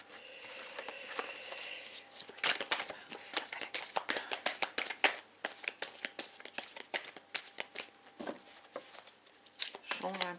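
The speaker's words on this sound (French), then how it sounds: "On va déjà peut-être couper le jeu. Faire une coupe là." A tarot card deck is shuffled and cut close up, a fast run of crisp riffling and slapping card sounds in irregular bursts, with a quiet voice speaking over it.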